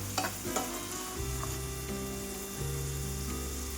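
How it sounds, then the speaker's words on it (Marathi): Curry leaves and green chillies sautéing in hot oil for upma, a steady sizzle with a few louder crackles and stirring scrapes near the start, heard close with no talking. "पत्ता, हिरवी मिरची, तेलामध्ये हे छान सगळं परतून घेऊ"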